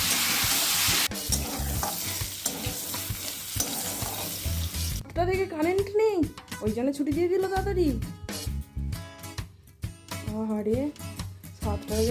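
Fish pieces fry loudly in a pan with stirring scrapes and a dense sizzle. After a few seconds a person starts talking over the continuing frying.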